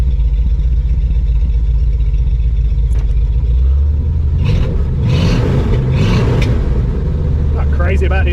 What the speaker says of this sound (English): AC kicking on and off.